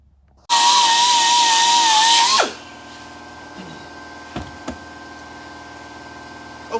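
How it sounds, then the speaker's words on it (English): A power tool buffs the edges of metal seat mounts for a Winston Cup Buick race car, screaming loudly for about two seconds, then winding down to a stop, with light clanks afterward in a workshop. "just buff these edges on these mounts, on seat mounts"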